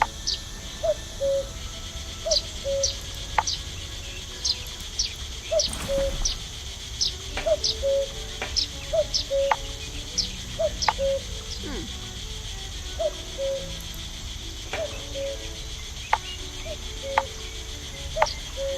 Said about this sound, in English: That woodpecker's making a lot of noise up there.